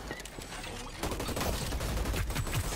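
Rapid gunfire in the Hyper Scape battle royale game, a dense, steady burst of shots that grows louder and fuller after the first second, with no talking.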